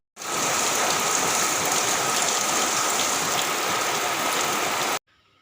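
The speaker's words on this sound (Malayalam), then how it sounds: "അപ്പോൾ ഇത് പുറത്ത് നല്ല മഴയാണ്" Heavy, steady rain pours down in a dense, continuous hiss for about five seconds, then stops abruptly, leaving faint background noise.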